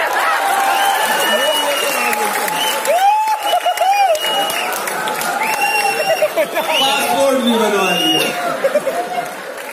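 Audience applause and crowd chatter at a live comedy show, a steady dense clapping wash running throughout, with a voice talking over it and a few light laughs.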